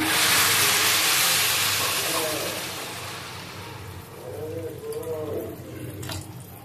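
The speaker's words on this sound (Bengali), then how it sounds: "এখন আমি দিয়ে দিচ্ছি গরম পানি" Hot water poured into a pot of fried rice while making hilsa pulao sets off a loud burst of hissing steam and sizzle that gradually fades into a softer bubbling hiss.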